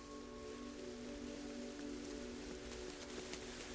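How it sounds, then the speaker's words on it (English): Steady rain falls throughout, a soft continuous hiss of drops on surfaces with a faint low hum beneath, no voices present. "It's just rain, come on."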